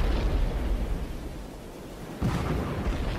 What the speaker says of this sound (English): The explosion sounded like reports of a big gun in the distance.